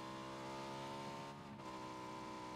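A car engine in PUBG on the Erangel map holds a steady, buzzing drone at constant pitch for a few seconds, with a brief dip partway through.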